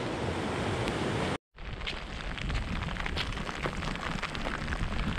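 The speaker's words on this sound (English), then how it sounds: "And it's really pouring down now." Heavy rain and strong wind roar outdoors at a remote bothy, a loud, dense and continuous wash of noise that breaks off briefly near the start and then resumes.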